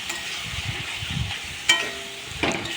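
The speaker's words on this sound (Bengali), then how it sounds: "মশলার পেস্টের সাথে পেঁয়াজটা বেশ ভালোভাবে কষিয়ে নেবো" Onion frying with spice paste in a pan for chicken curry, a steady broadband sizzle with low scraping stirs, punctuated by two sharp utensil clanks against the pan, close and moderately loud with no talking.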